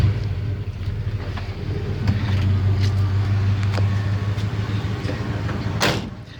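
A 1962 Chevy Impala or 1970s Chevy C10 pickup engine turns over and settles into a steady, deep idle that rumbles on close by, with no talking.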